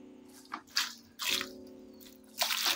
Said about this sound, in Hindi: चलिए अब इसमें हल्के हल्के पानी डालेंगे,